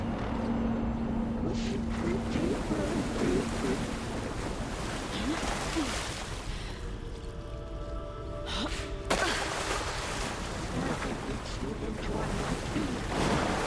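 In Alan Wake 2, water and waves surge steadily around the player, a continuous loud wash with splashing and wind-like rush, and a voice speaks briefly over it.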